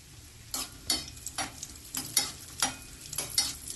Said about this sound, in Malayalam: അണ്ടിപ്പരിപ്പിന്റെ കളർ മാറി തുടങ്ങുമ്പോൾ കുറച്ച് ഉണക്കമുന്തിരിയിട്ട് വറുത്തെടുക്കാം.